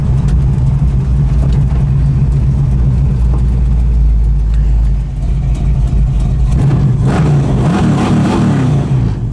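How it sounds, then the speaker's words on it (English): A 1976 Pontiac Trans Am engine roars loudly and close through its tailpipes, a sustained deep exhaust rumble that swells into a rev near the end before settling. "especially with that sound coming out of the tailpipes"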